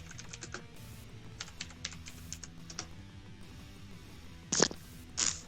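Typing a search on a computer keyboard, quick bursts of light key clicks followed by a couple of louder key presses, close and alone without speech.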